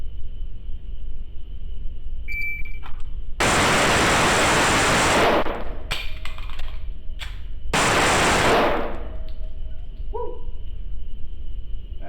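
An STI Staccato P pistol fired at a shooting range, heard as two loud, sharp bursts a few seconds apart, each with a long, noisy tail, over a steady hiss in the background.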